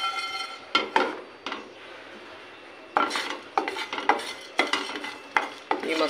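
Red chillies dry roasting in a pan for a Punjabi kadhi spice mix, with a steady faint crackle and repeated loud scrapes and clinks of a spoon stirring against the metal, no talking.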